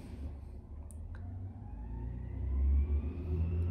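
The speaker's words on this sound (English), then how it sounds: "It's a garbage truck." A garbage truck passing outside, heard as a low engine rumble that swells and revs up toward the end, muffled through walls, with a rising whine over it.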